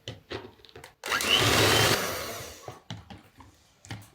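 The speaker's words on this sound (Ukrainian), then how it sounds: "У мене блендера немає, тому буду використовувати міксер. Починаю збивати." An electric hand mixer whirs in one loud burst for about a second and a half, then winds down, with quieter clatter and rustling around it.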